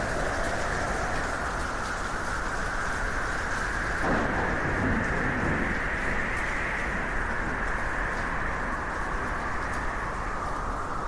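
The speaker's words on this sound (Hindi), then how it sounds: "कड़कती बिजली की आवाज से शिबू की आंखें खुल जाती हैं।" Dense, steady heavy rain fills the scene, with a low rumble of thunder swelling up partway through.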